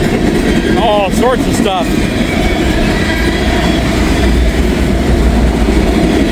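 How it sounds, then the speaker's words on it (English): A long freight train with tank cars and an auto rack rolls past nearby, a loud constant rumble with a couple of brief squeals early on, while someone speaks briefly over it. "Pretty good train here."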